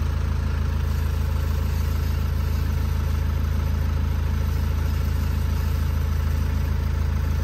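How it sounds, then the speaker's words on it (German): An Opel Astra K diesel engine idles in a steady, even drone with a low throbbing hum, close and unchanging throughout, with no voices. "Ich habe den Motor nun etwas laufen lassen"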